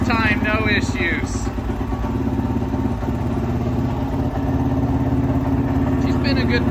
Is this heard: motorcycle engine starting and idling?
yes